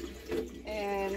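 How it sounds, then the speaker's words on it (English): Plain water running into a boat's holding tank, a steady rushing flow with a rising filling tone that grows louder and more continuous in the second half. "We've just been filling it up with plain water."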